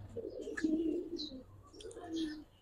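Giribaz and coloured fancy pigeons cooing at close range, soft low throaty coos in two bursts with faint higher chirps mixed in.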